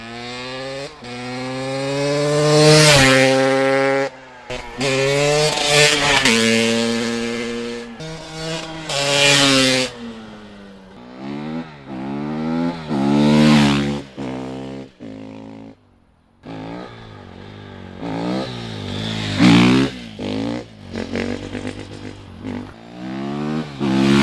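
A two-stroke 300cc supermoto motorcycle makes repeated flybys, its high ringing engine rising and falling in pitch as it revs past, loud and close, with short gaps between passes.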